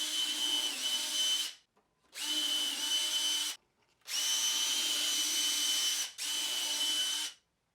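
Power drill driving screws into a jigsaw table top, four sustained whirring runs separated by brief pauses, close and fairly quiet.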